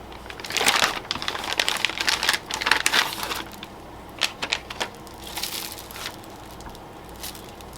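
Plastic packaging of an Omeals meal kit crinkles and tears open in a close, irregular series of rustling bursts that thin into scattered crackles toward the end.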